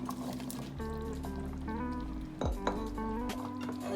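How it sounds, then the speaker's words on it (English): Potatoes and carrots dropped into a pot of beef stew, with a few close clinks and knocks of utensils against the pot over a low kitchen hum. "at this point we're going to go on and add our potatoes in"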